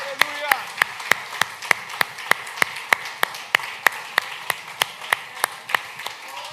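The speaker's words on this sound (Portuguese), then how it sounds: "Meu irmão, aplauda ao Deus de milagres, não negue o poder de Deus." A church congregation clapping in unison, a steady rhythmic beat of sharp claps about three per second, moderately loud, with a voice briefly heard at the start.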